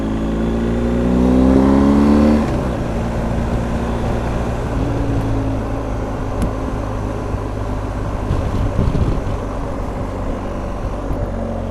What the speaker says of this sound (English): Little bit of revs, little bit of clutch slip.